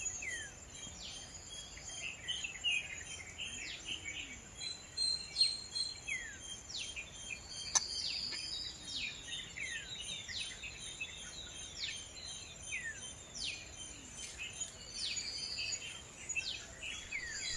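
Wild birds call in the Sathyamangalam tiger reserve forest: faint, scattered chirps and short tweets repeat over a constant high insect drone, with no voices.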